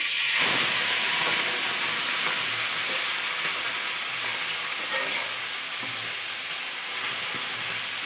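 Chicken liver dropped into hot oil with mustard seeds, a steady broadband sizzle and steam hiss that stays loud and continuous throughout, with no talk.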